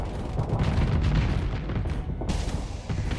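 Dense, continuous barrage of booming gunfire and missile blasts from hammerhead ships in the Starsector space combat game, loud and relentless with overlapping impacts throughout.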